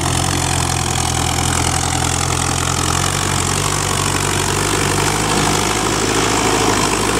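An old tractor from the 1970s idles loudly and steadily up close, a continuous low engine rumble with no talk over it.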